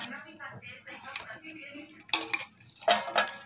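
A spoon scrapes and clinks through rice as biryani masala is mixed in, with two sharper metallic knocks standing out over soft stirring. A voice talks underneath.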